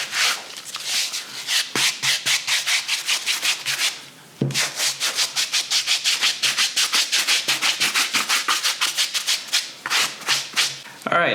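A medium bristle brush scrubs across suede on a Nike SB Dunk sneaker, quick close-up scratchy strokes in a steady brisk rhythm with one brief pause, loud and dry with no talking.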